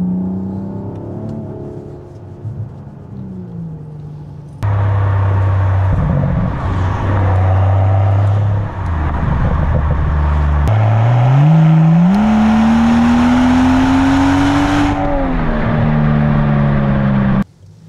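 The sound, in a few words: Mansory Rolls-Royce Wraith engine revving while driving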